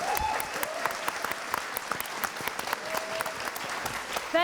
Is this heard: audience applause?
yes